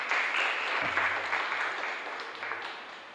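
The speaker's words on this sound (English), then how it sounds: "So let's give them all a round of applause" Applause from a seminar audience for panelists at an NGO seminar in Trinidad and Tobago, a steady moderate patter of many hands that slowly tapers, with a faint low voice murmuring underneath.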